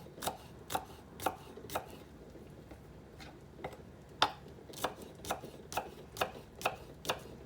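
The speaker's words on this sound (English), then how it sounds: "just gonna chop up the green part of this onion." A knife chops the green part of an onion on a cutting board, about a dozen sharp, evenly spaced taps up close with brief pauses between runs.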